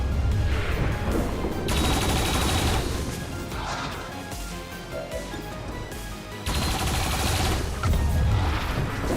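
Turrets fire in XCOM 2 as a dense, continuous barrage of loud blasts and crashes with heavy low rumble, surging again near the end and carrying on without pause.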